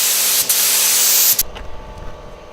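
A gravity-feed paint spray gun sprays a school bus ceiling at an angle, a loud steady hiss of atomized paint that cuts off abruptly, followed by quieter rattling and knocks.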